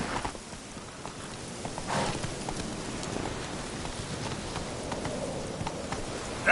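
Roach, a horse in The Witcher 3: Blood and Wine, moves at speed with a steady run of hoof clip-clops over continuous outdoor ambience, fairly close and moderately loud, with no talking.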